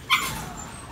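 A brindle Phu Quoc dog gives a single brief, high whimper or yip close by, and faint background noise follows.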